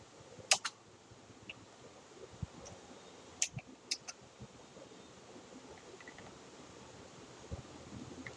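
Code being typed on a computer keyboard: a handful of faint, scattered key clicks over a quiet hiss, spaced irregularly with gaps.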